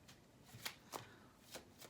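Osho tarot cards are shuffled by hand in a few quiet, crisp riffling bursts, faint and close with short pauses between them.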